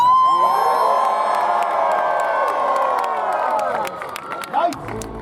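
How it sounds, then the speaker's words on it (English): A crowd at a jousting tournament at the Pennsylvania Renaissance Faire cheers and whoops loudly, a dense roar of voices and shrill shouts that fades slightly toward the end. "greet them with a hearty cheer!"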